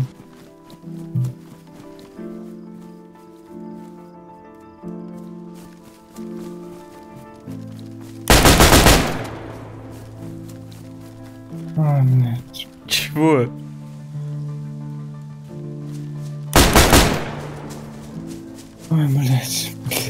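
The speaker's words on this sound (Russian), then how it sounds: "Начинается стрельба" Gunfire in the survival video game DayZ: two sharp, loud shots about eight seconds apart cut through ongoing conversation between male players.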